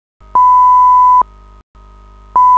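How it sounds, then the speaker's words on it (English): A fire alarm on an offshore installation, sounding after a hydraulic power unit fire, gives loud sustained electronic beeps in long on-off pulses over a low hum, with no voices. "Fire alarm goes off and personnel on board start extinguishing the fire."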